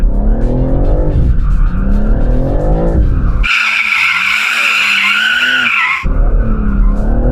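A four-wheel-drive car switched to two-wheel drive drifts, its tyres squealing loudly in a long sustained skid while the engine roars up close.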